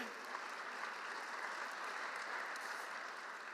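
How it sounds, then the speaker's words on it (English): A conference audience applauds a leaders' panel discussion, steady dense clapping filling the whole stretch at an even level with no talk over it. "What about another round of applause for the panel?"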